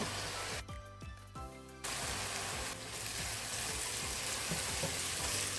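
Green chili, onion and tomato sauté in a pan with a steady, close hiss and sizzle, and a brief stirring break early on.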